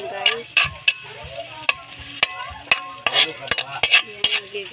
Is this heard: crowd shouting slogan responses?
no